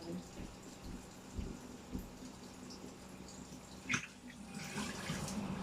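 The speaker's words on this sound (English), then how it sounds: "I might as well pour fresh water in here." Fresh water pours into a container, faint and close, as a soft, uneven splashing and trickling with a few small knocks and clinks.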